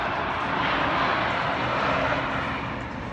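A thrill ride at Six Flags Magic Mountain roars past like a jet taking off, a loud, broad, continuous rush that swells and then slowly fades.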